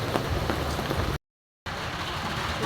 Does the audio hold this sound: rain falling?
yes